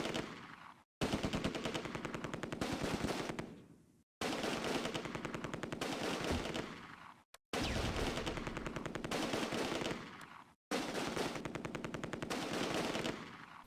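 Long, rapid bursts of MG42 machine gun fire in the video game Close Combat A Bridge Too Far, four sustained loud volleys separated by brief pauses.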